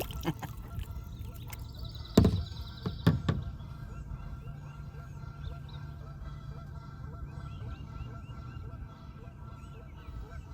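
Geese honk from across the water on a morning kayak trip, a burst of loud nearby calls around two to three seconds in, then softer scattered honks and chatter continuing in the distance over a steady outdoor hum.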